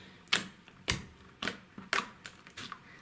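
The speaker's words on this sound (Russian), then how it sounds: "Кликает." Slime squeezed by hand gives off a series of sharp, crisp clicks and crackles, about seven quick distinct snaps spaced irregularly, close and fairly quiet with no talking.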